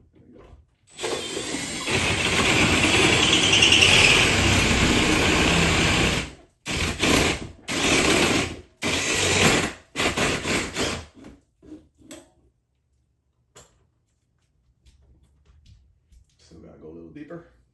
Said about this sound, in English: grab your drill or your hole saw, whichever one you have